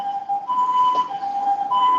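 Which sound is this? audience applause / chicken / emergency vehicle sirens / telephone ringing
emergency vehicle sirens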